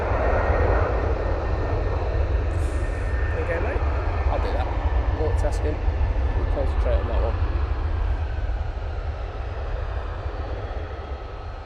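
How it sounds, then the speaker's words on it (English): An Aer Lingus Airbus A330 jet at Manchester Airport gives off a steady, loud engine roar and rumble that fades slightly toward the end, while people talk over it. "Aer Lingus. A330. Guessing that's the JFK one."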